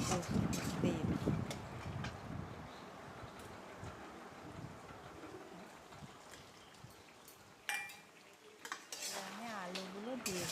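Mutton curry with potatoes being stirred in a pot, uneven scraping and clinking of a spoon against the metal, loud at first then quieter, with a sharp knock near the end.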